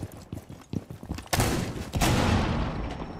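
Gunfire in the tactical shooter Rainbow Six Siege: scattered soft thumps give way to two loud, close bursts of rapid shots, each ringing out with a long decaying tail.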